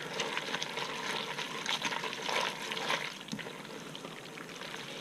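Cream of mushroom soup stirred into chicken spaghetti in a pot on a medium stove, a continuous wet squelching and scraping of thick creamy sauce, close and steady with no talking.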